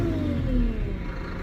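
A Deutz-Fahr Agrofarm 115GS tractor engine running steadily at raised revs, a sustained mid-pitched drone with a faint whir, no voices.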